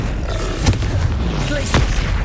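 Confringo explosive spell blasts in the Hogwarts Legacy video game, two loud booming impacts roughly a second apart over a dense, noisy game soundscape.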